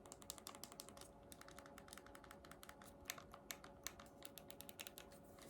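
Buttons on a Nintendo Switch being pressed, a quick, uneven series of close, faint plastic clicks, some in rapid bursts, with no talking.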